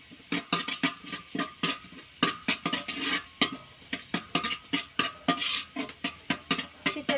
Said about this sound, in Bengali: পেঁয়াজ ভাজি প্রায় শেষ পথে।